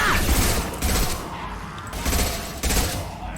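Gunfire in Mass Effect 2 combat: several sharp bursts of shots spaced unevenly over a few seconds, loud against a busy game background.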